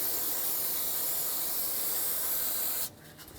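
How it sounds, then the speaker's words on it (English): Brake parts cleaner spraying from an aerosol can onto a front lower ball joint area of a 2004-2008 Ford F-150, a steady loud hiss lasting nearly three seconds before cutting off abruptly. "Let's clean it off with some brake parts cleaner and a rag to prepare the surface for the new ball joint."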